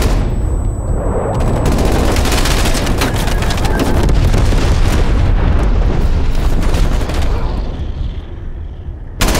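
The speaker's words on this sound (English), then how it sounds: "Enemy napalm strike coming." Napalm strike explosions in Call of Duty Cold War, a loud, dense barrage of booms and crackling blasts merging into a continuous roar for several seconds before tapering off.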